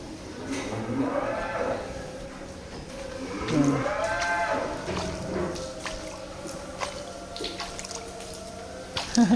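Dairy cows and other livestock low and moo at a sacrificial cattle market in a city, several long drawn-out calls at moderate distance over background bustle and faint chatter.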